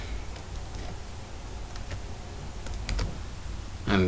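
Keys on a computer keyboard are typed into a Jenkins file, a steady run of close, light clicks under a faint background hum.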